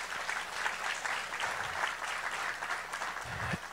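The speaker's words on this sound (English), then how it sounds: "the kids, I know we already did this, but deserve another round of applause" A church congregation applauding children at a December service, a steady, moderately distant round of clapping lasting the whole few seconds.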